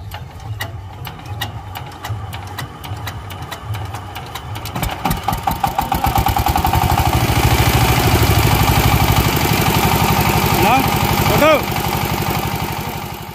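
A Sigma power tiller engine running after repair, loud and close, starting with a rough idle and then revving into a steady rapid chugging drone with a pitch swell near the end.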